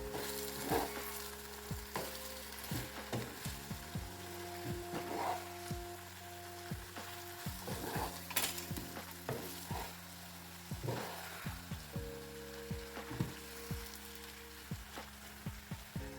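Grated carrot and onion stewing together in a pan, stirred with steady, repeated scraping strokes over a soft continuous sizzle, close and moderately quiet, with a low hum underneath; no talking.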